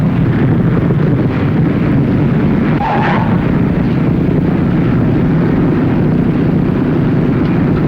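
Loud, steady propeller-plane roar with heavy wind noise and low rumble as a piston aircraft rolls out after landing, engines throttled back, with a brief higher tone near the middle and no talk.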